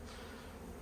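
Bees around a beehive during an anti-swarming inspection, a brief, faint, steady buzzing hum heard close up with no voices.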